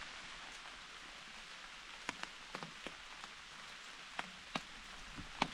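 Light rain falls on a hiking trail along the Long Trail, a soft steady hiss broken by scattered sharp drip ticks, quiet and close with no voices.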